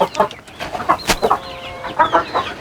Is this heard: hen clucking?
yes